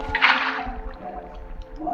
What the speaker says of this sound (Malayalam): താഴത്തോട്ട് വെള്ളം ചാടുണ്ട്.